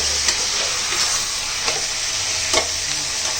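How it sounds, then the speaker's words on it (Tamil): Onions sautéing in a pan for chicken curry give a loud, steady sizzle and hiss, with a few soft scraping stirs of the spoon, close and continuous, no talking. "நல்லா இந்த மாதிரி வதக்கணும்"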